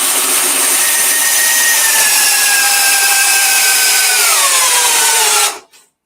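A cordless power tool, a Milwaukee, Flex or Metabo MultiVolt, runs loud and steady at high speed, its pitch sagging slightly as it bogs, then cuts off abruptly near the end.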